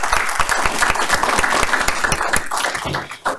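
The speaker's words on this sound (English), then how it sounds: "Let's give her a hand clap as she comes." A room of attendees at a school district board meeting claps steadily as a teacher comes up to be honored, a dense, sustained applause heard close with no talk over it.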